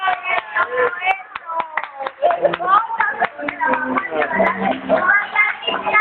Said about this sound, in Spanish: ¡Aplaudan, aplaudan!